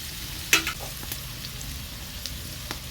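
Chopped onion sizzles steadily in a hot pan while being stirred for a rohu fish dum pokht, one sharp clatter of the spatula early on, then a soft continuous fry hiss with occasional light scrapes.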